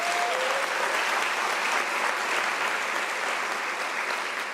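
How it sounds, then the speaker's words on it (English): Sustained applause from an audience at a university graduation ceremony, a dense, even clapping crowd lasting the whole stretch without a break. "Let us give them a round of applause"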